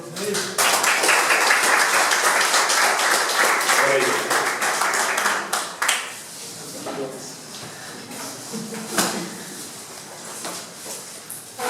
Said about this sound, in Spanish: ¿Cuánto le damos un aplauso a Dios por ello?